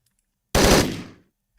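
A single burst of video game gunfire, loud and close, a sharp onset with a short decaying tail after a silent lead-in.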